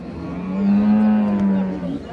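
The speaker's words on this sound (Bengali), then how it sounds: "এটা গাভী।" A Holstein Friesian dairy cow gives one long, loud, close moo lasting nearly two seconds, steady and tonal with a slight swell in the middle and no talking over it.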